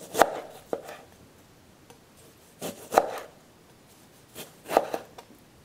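Knife slicing through fresh ginger on a cutting board, heard as three or four separate crisp chopping taps spaced about two seconds apart, close and fairly quiet with no talk.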